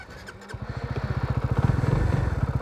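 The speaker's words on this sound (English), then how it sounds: "Let's start the bike up and get riding." A motorcycle engine starts with a brief click and catches, then idles in a steady, rapid close-range pulsing thump that gradually grows a little louder.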